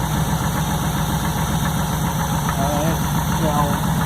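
A 1968 Chevy short narrow stepside pickup idles steadily after a cold start, a continuous close engine rumble with a slight knocking texture, while someone talks over it.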